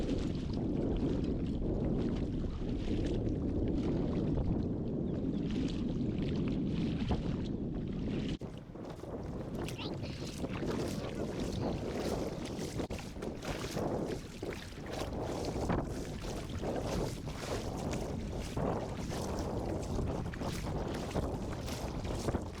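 Strong wind roars over the microphone as waves slap and wash against a kayak during a lake crossing, a constant loud rushing sound with irregular splashes and no talking.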